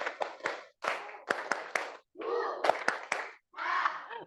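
Children in a sixth-grade classroom clap in short, rhythmic bursts of a class cheer, with groups of sharp claps separated by brief pauses and a few gaps where voices seem to call out between the claps.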